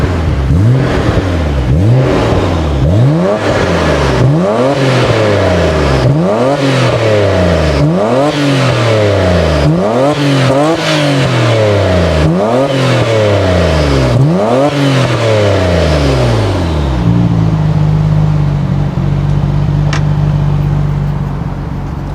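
Nissan RB26DETT with aftermarket cams, breathing through an aftermarket muffler, revved hard about eight times in a rhythmic rise-and-fall pattern, then settling into a loud, lumpy idle.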